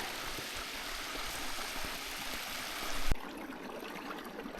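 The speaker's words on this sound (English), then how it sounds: "Going to a waterfall." A mountain stream or waterfall on the Enchantments traverse rushes with a steady, broad wash of water noise, fairly close, before dropping abruptly to a quieter, more distant flow near the end.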